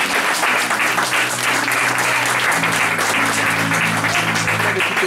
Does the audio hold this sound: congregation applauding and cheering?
yes